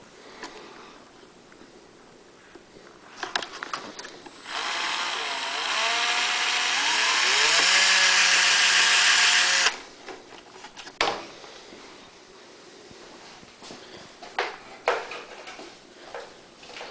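A small drill bores a 1/16 inch hole in the choke of a Honda EU2000i generator, a close, rising whir lasting about five seconds that ends abruptly, with a few clicks and knocks around it.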